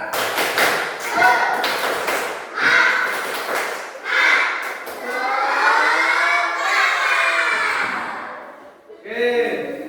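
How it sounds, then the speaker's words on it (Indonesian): A classroom group performs a rhythmic spirit clap, sharp percussive claps in patterned bursts mixed with voices chanting and shouting along, loud and close throughout. "Berikan tepuk tangan untuk semua. Biar tambah semangat, kita akan makan tepuk semangat."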